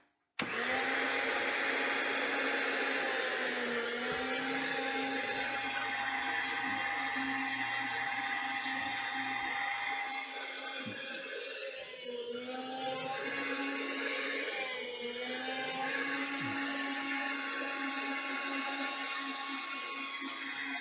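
A Chef's Choice 615A electric slicer on its number 2 setting chips steak thin, its motor whirring loudly and steadily for about twenty seconds, the pitch dipping briefly under load as the blade passes through the meat.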